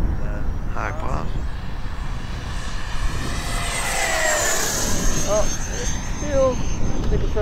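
FMS Avanti V3 70mm electric ducted fan model jet flying over a grass field, a continuous whooshing whine that swells and sweeps past in the distance while people talk nearby.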